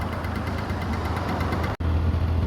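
A cold Honda Dio Fit scooter engine idles steadily with a low, even putter up close, briefly cut by a click near the end before the idle carries on.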